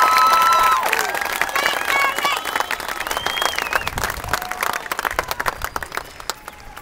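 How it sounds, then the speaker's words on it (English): A graduation crowd at MCRD San Diego applauds the drill instructors, dense clapping and scattered cheers that gradually thin out and fade over several seconds. "let's give them a round of applause"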